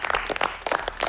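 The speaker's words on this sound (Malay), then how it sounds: "kita berikan tepukan" Studio audience applause on a Malaysian cooking competition show, a brief burst of dense clapping, close and fairly loud, with no talk over it.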